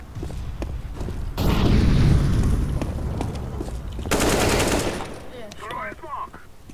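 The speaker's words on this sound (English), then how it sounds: "Throw in the flashbang!" A flashbang grenade detonates in Counter-Strike with a loud, harsh burst, and a second blast follows a few seconds later amid game noise, with faint chatter near the end.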